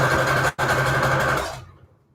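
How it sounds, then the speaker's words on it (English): A sewing machine runs a zigzag stitch on a small junk journal embellishment, a loud steady motor whir with a brief stop at half a second, then running on before winding down. "I like to just use zigzag stitch to make sure everything's sewed to each other."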